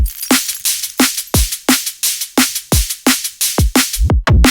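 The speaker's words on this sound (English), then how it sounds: "So the drums in this idea sound something like this." A fast, punchy drum and bass beat plays loud and clear, with steady kicks and snappy snares repeating in a driving rhythm.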